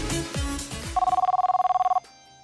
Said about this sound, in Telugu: బర్రా ఫోన్ చేస్తున్నారు.